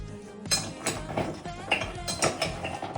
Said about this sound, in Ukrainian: валимо туди майонез, кетчуп. І все це перемішуємо, щоб кожна пельмішка була мокрою